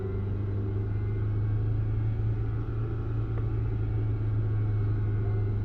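A Kia Optima engine held steady at 2000 rpm, giving a continuous even drone and rumble close by, with no change in pitch and no talking.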